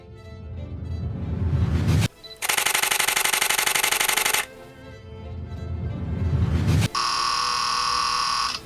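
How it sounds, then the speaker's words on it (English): A Canon R6 Mark II fires two rapid continuous bursts at up to 40 frames per second. Each is a dense buzzing rattle of shutter clicks lasting about two seconds, with softer rising mechanical noise between them. "There's a range of drive modes in there with continuous shooting up to an unbelievable 40 frames per second."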